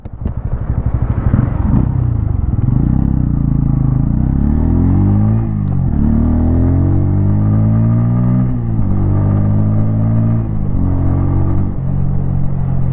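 A 2025 Bajaj Pulsar N160 motorcycle rides along in off-road ABS mode, its close, loud engine drone rising and falling in pitch through several gear shifts, with no talking over it.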